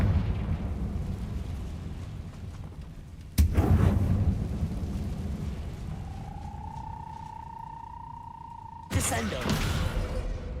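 Confringo blasting spells explode in Hogwarts Legacy, two sudden loud booming bursts a few seconds apart with rumbling decay, over steady low game ambience and a rising whistling tone before the second blast.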